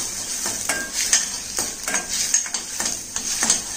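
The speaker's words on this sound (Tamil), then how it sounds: "இஞ்சி பூண்டு நல்லா வதங்கினதுக்கு அப்புறமா" Ginger and garlic sautéing in a pan, an up-close sizzle broken by rhythmic scraping strokes of a utensil being stirred about once every half second.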